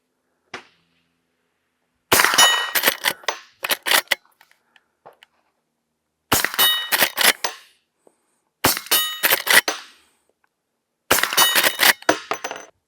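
Suppressed shots from a lever-action rifle fitted with an Osprey 45 suppressor ring out in four spaced groups, each a sharp crack followed by ringing clangs of bullets striking steel targets.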